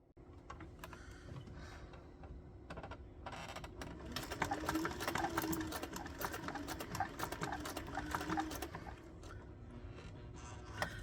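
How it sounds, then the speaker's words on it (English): A home sewing machine runs a wide zigzag stitch close to the edge of a hat. Its rapid, rattling mechanical clatter holds steady and fairly close, building to a louder run in the middle, with no talking. "So I've got as wide a zigzag stitch as my machine will do, and I'm carefully sewing it right next to the edge."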